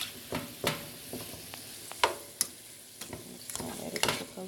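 Seasoned shrimp sizzling in a pan, a quiet frying hiss broken by several sharp scrapes and clinks of stirring, close up and irregular.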